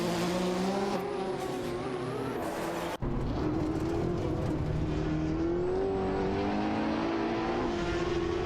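Mazda RX-7 and Audi 90 Quattro IMSA GTO race cars in a racing video game, engines droning and revving continuously at high pitch with gear shifts and a brief cut partway, loud and close with no voices.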